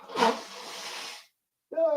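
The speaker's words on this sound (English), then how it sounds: "And I have to sneeze." A single loud, breathy sneeze bursts out close to the microphone and trails off over about a second. After a short silence a voice starts speaking.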